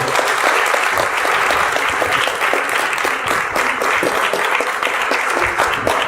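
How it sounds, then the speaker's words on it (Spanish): A lecture audience breaks into sustained applause after a talk on being-toward-death, a dense, steady wash of many hands clapping at close range, with no voices over it. "Pues, por favor, un fuerte aplauso."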